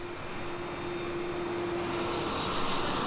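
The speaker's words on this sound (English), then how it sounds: "At 22:30 hours, the plane starts to taxi to the runway for takeoff," A plane taxiing toward the runway at night for a short flight near Frankfurt and Cologne-Bonn, its jet engines a steady, broad roar that builds slightly, with a sustained whine running through most of it.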